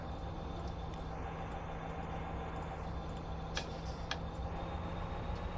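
A freight locomotive in notch 1 slowly gaining speed in Train Sim 2022, a steady low diesel drone with a constant hum, faint and even, with a few brief metallic clanks near the end.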